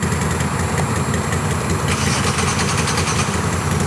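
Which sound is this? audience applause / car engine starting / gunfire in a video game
car engine starting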